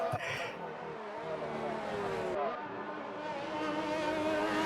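A race car engine in a Monaco racing video game whines steadily at high revs, its pitch climbing and shifting as it accelerates, loud and continuous with a sharp burst at the start.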